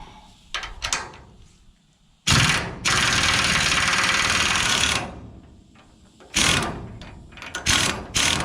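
Socket wrench ratcheting a 15/16 nut on a dump trailer lock, with long sustained bursts of rapid clicking and shorter quick ratchet strokes between them, close and loud.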